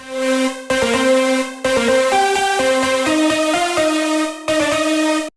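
A bright, unprocessed synth lead plays a stepping melody of short sustained notes with brief gaps, loud and dry, with no voices.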